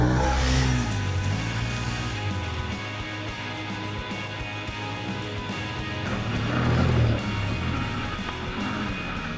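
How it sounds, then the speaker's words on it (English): An off-road vehicle's 1000cc V-twin engine revs hard, its deep, throaty exhaust note rising and falling steadily throughout, loud and close with no talking. "this 1000cc V-twin produces tractor-like torque and one of the sweetest exhaust notes"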